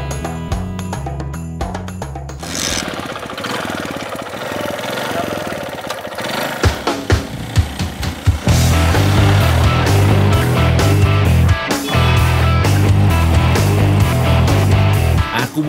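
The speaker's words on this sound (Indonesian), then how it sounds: "Aku mesti pelan-pelan bawa motornya, biar gak terjadi hal-hal yang tidak diinginkan." A motorcycle is being ridden slowly. The engine rumbles loud and close, first idling, then revving in uneven bursts before settling into a steady heavy drone.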